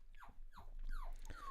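Tiny Chihuahua dogs whine and whimper in a series of four descending, nasal cries. The sound is close but fairly quiet over a steady low background hum.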